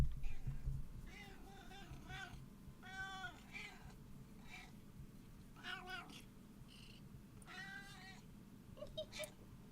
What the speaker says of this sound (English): Very talkative, this cat.